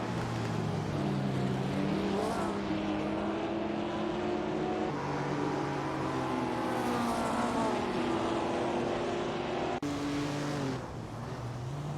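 Several engines of 1950s sports cars race in a simulator game, their dense overlapping drone rising and falling in pitch as they accelerate and shift, loud and continuous throughout with no talk.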